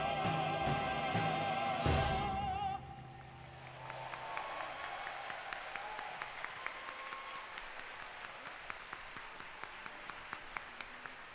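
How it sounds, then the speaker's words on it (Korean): After music fades out, an audience claps steadily at a Liberation Day ceremony, a sustained wash of applause with some individual sharp claps standing out, moderately distant. "소중한 공연 만들어주신 모든 출연진분들께 다시 한번 큰 박수를 부탁드립니다"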